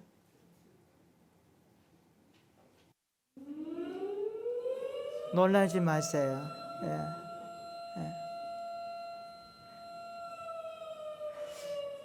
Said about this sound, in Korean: 15일 날 민방위 훈련, 사이렌 소리와 함께